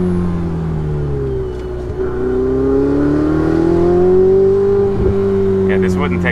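A Ferrari 488 Spider drives up a winding mountain road, its engine note rising and falling smoothly as it accelerates and eases off. The sound is loud and close throughout.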